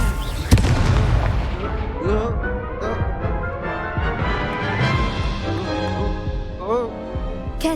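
Spell blasts from Hogwarts Legacy combat on PS5: dense, continuous booming and bursting effects with layered music and crackles, one sharp loud bang early, sustained busy action throughout.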